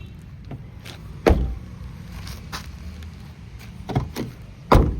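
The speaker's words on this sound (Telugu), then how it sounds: "డోర్ సౌండ్ కూడా చూసుకోవచ్చు" Car doors on a 2012 Maruti Alto 800 LXI petrol hatchback shut with several close, solid thuds, one sharp slam early, others later, against a quiet low background with no talk.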